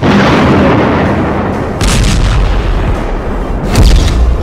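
Cluster bomb explosions, a dense, loud rumbling roar of continuous blasts with heavier bursts surging through it.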